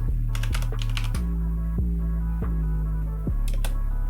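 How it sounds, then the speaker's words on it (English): Keys clatter on a computer keyboard in short uneven bursts over a steady low hum, the clicking close and distinct with brief pauses between runs. "just so I can type in the artist's name"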